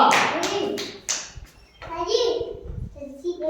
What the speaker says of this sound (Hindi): इसके लिए जोरदार ताली बजाएंगे।